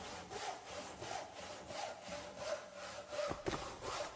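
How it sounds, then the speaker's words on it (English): Repeated sawing of trees at a logging camp in a video game, a steady rhythmic back-and-forth rasp of blade on wood that keeps cycling for several seconds with a few sharper knocks near the end, with no talking. "You can hear the trees being chopped down."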